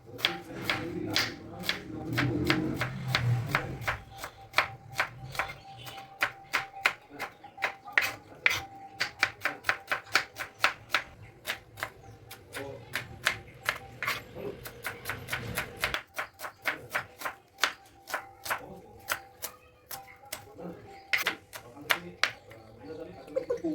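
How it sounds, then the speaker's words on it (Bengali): A knife chops onions finely on a board, a long run of quick, crisp taps at a steady brisk rhythm, close and fairly loud, with a voice talking quietly early on. "পেঁয়াজগুলো এবার কেটে নিই। হ্যাঁ, ছোট ছোট করে কুচিয়ে নাও।"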